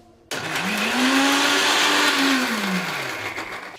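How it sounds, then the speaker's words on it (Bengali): An electric grinder blending ginger and garlic into paste starts abruptly and runs as a loud, steady whirring roar, its motor pitch rising then slowly falling before it winds down near the end. "এখন যেমন আদা রসুনটা পেস্ট করব"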